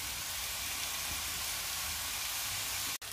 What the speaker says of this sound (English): I will fry it for 3 minutes before I will now leave it to cook.